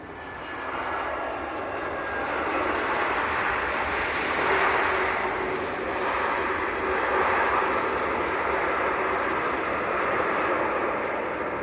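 A Wizz Air Airbus A321 airliner passes at Leeds Bradford Airport, its engines a loud, steady roar that swells slightly and holds throughout, with no voices.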